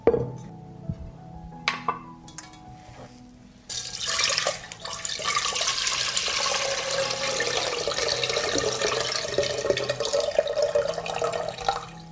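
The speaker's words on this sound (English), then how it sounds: "After 15 minutes of standing, I pour the water from the jar into a saucepan." Water poured from a glass jar into a saucepan: a few glassy clinks and small splashes, then a steady, close pouring rush that continues to the end.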